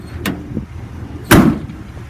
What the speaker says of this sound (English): Again, cabinet doors open and close.